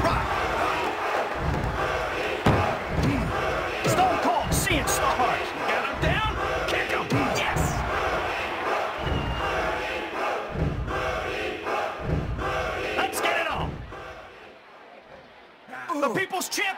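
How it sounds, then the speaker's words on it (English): Roaring arena crowd noise from the WWF Attitude wrestling video game on Sega Dreamcast, a steady loud wall of cheering and shouting that swells and falls over about seventeen seconds, dipping near the end before rising again. "This crowd is going berserk! They're loving it!"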